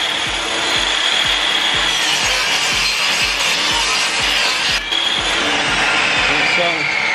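A power saw cuts wood for stair crown molding, a loud, close, continuous whining cut with a rhythmic thumping underneath and a short dip near the end, with no talking.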